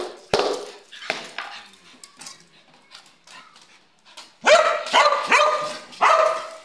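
A pet dog at feeding time lets out sharp, loud barks in separate bursts, some close together, with a snarling edge and quieter gaps between, alongside faint clinks of a feeding dish.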